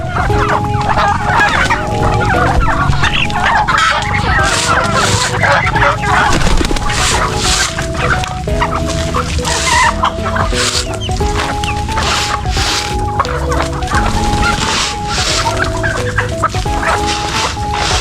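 A flock of chickens in a backyard coop clucks and squawks continuously and close by, many birds calling over one another in a dense, busy chorus.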